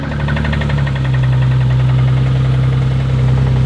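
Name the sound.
Infiniti G35 engine idling with rod knock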